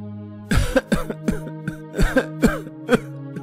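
A series of harsh, raspy coughs in quick bursts, close and fairly loud, with brief throat-clearing sounds between them and no speech.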